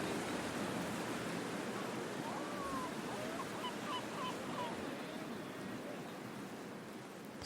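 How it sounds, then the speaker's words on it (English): Sea waves wash steadily along the water in Venice, Italy, with a broad, constant surf hiss, while faint gull-like calls chirp intermittently in the distance. "we hear a lot of different water sounds. The sea, the seagulls, boats."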